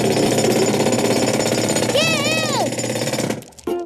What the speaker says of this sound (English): Using this jackhammer.